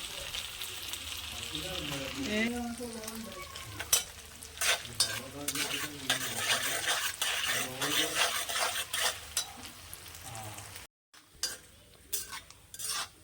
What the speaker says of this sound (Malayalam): തേങ്ങയും ഇഞ്ചിയും വെളുത്തുള്ളിയൊക്കെ നന്നായിട്ട് മൂത്ത് വന്നിട്ടുണ്ട്